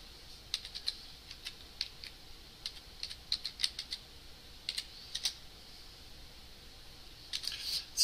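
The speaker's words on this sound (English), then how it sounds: "Then I'm going to go and type localhost." Computer keyboard keys clack in quick irregular bursts of taps, close and crisp over a faint background hum, with no voice.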